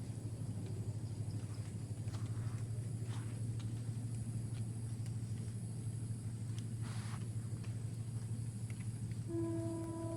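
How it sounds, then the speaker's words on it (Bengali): A train running from Dhaka toward Sylhet near a rubber garden at Madhabpur gives a steady, low droning rumble that holds at an even level throughout, with faint outdoor hiss above it and no voices. "আপনারা যে আওয়াজটি শুনতেছেন, এই আওয়াজটি ট্রেনের আওয়াজ। ট্রেন আসতেছে ঢাকা হতে, সিলেটগামী ট্রেন।"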